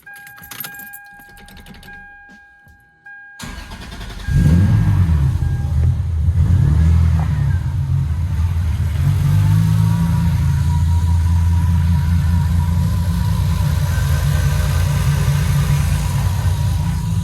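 A Lexus SC300 engine cranks and catches after a quiet stretch with faint key jingles, then settles into a loud, steady idle that holds for the rest of the clip with no talking.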